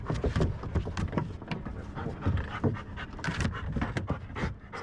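A search-and-rescue training dog pants rapidly and continuously outdoors, a close, breathy rhythm of quick in-out huffs that runs throughout with no voices over it.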